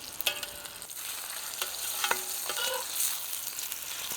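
Ribeye steaks sizzle in a pan inside a wood-fired pizza oven, a steady broadband hiss with a few scraping, clattering touches as the meat is flipped, moderately close and without talk.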